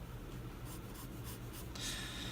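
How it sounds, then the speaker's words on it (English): The soft side of a charcoal pencil draws a circle on paper, making faint, steady scratchy strokes that repeat in a quick rhythm, close and quiet. "So the ear, I'm gonna draw a circle. I'm going with the side of my pencil as well."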